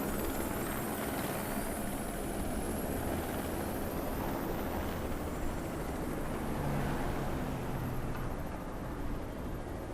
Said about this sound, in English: I do believe that is a helicopter.